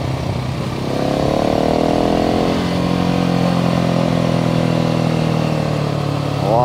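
A Husqvarna 701 single-cylinder motorcycle carries the rider through curves, its engine note steady, then rising and falling as the revs shift through the bends, close and loud with wind rush underneath.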